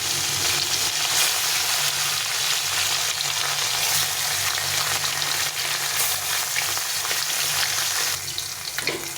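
Pieces of rohu fish fry in smoking hot oil, a loud, dense, continuous sizzle close by, easing slightly near the end as the pieces are turned.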